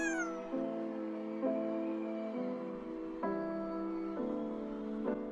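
A person imitates a cat into a microphone to control a video game, giving a run of about six drawn-out, tonal meows with short gaps between them, close and clear.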